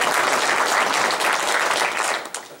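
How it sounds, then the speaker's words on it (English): Brief burst of dense audience applause at a county government association annual conference, loud and continuous before tapering off at the end. "It's supposed to be an applause line."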